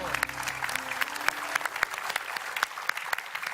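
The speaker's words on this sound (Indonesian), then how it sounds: "Tepuk tangan dulu dong untuk Jewen" An audience claps on cue at a lively event, sharp separate hand claps over a thinner wash of clapping, brief and moderately loud with some voices underneath.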